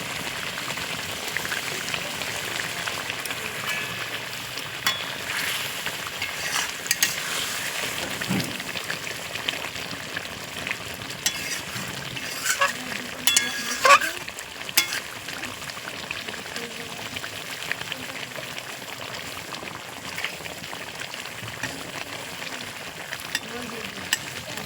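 Raw tomatoes hit hot oil in a spicy eggplant curry, giving a steady, close hiss of frying with scattered crackles and occasional stirring clatter throughout.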